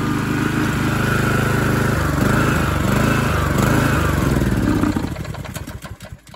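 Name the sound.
small gasoline engine idling after carburetor work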